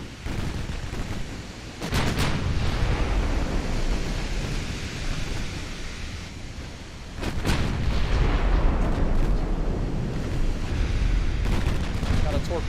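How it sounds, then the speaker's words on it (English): A torpedo detonates against a battleship in the naval strategy game Ultimate Admiral Dreadnoughts, sharp blasts followed by heavy, noisy roaring surges like churning water, loud and broad. "Got a torpedo detonation on their battleship"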